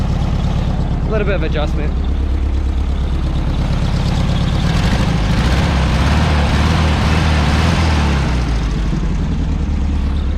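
The engine of a 1970 VW Beetle, revived after twenty years abandoned, idles with a steady low throb close by while someone speaks briefly over it.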